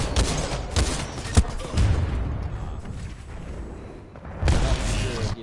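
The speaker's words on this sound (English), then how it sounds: "He threw an arc grenade trying to get me." An arc grenade detonates during a Titanfall 2 match, a loud burst with a sharp crack, then a crackling electrical rumble that fades and swells again with more gunfire and impacts near the end.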